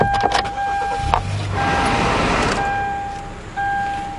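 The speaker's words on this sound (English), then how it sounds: "Then you start up your car." A car's engine cranks and starts in a short burst, settling into a steady idle hum, with a repeated electronic beep or chime sounding over it at close range.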